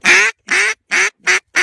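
Five loud, nasal duck quacks in a steady series, each about a third of a second long with short gaps between them, close by and with no other sound.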